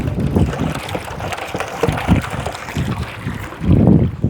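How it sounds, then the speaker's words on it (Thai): Wind gusts outdoors buffet the microphone in rumbling low bursts that swell and fade unevenly, with a heavy surge near the end, and no voices are heard. "ลมเนาะ"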